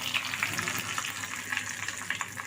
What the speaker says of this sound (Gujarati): ધીમા ગેસ ઉપર શેકી લઈશું